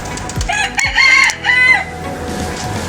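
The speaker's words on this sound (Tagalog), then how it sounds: "Reklamador itong manok natin ah." A farmyard rooster crows loudly and close by, one full cock-a-doodle-doo call rising and falling, with a brief cluck around it and no talking.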